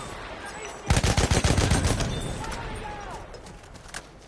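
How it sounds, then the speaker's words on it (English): Enemy machine gun fire in the Battlefield 1 video game: a rapid burst of loud shots lasting about a second, then trailing into fainter rattling bursts and a low rumbling tail, with talk underneath. "Mitrailleuse ennemie!"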